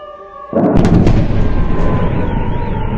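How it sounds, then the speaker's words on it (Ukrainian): In Belgorod, a sudden loud blast erupts after a faint rising air raid siren tone, followed by booming rumbles and a sustained wailing siren in the distance. "лунає сигнал повітряної тривоги та потужні вибухи"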